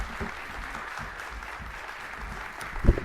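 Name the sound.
applause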